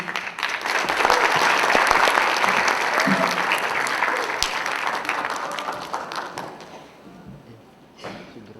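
A crowd applauds loudly and steadily at a literary solidarity event for Palestine, the clapping dense and sustained before thinning out and fading near the end.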